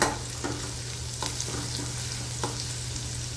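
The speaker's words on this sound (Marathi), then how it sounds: "लसूणही कांद्यासोबत व्यवस्थित परतून घेते मी" Crushed garlic and chillies fry in hot oil, a close, steady sizzle with a spoon scraping through the pan in several brief strokes.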